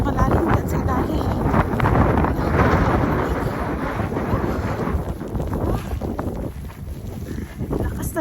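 Strong winter snowstorm wind in Edmonton roars continuously and loudly, buffeting the microphone with a dense, rumbling rush that barely lets up.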